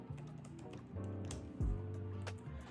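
Typing a search on a computer keyboard, a quiet stream of irregular key taps over a low tonal music bed that runs throughout.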